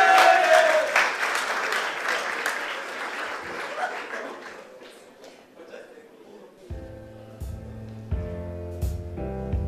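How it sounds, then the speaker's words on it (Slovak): A big audience at a high school graduation-ribbon celebration erupts in loud applause with scattered cheers, which fades over several seconds before piano-like music begins. "Veľký potlesk!"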